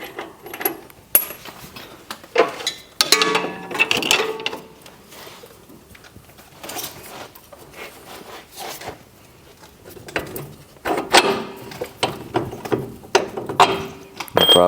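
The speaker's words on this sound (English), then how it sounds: "Take out your big bolt on your strut here, which we've already got loose." A ratchet backing out a big strut bolt on a 2004–2008 Ford F-150, close clicking bursts and metallic clacks in irregular spurts with quieter gaps between.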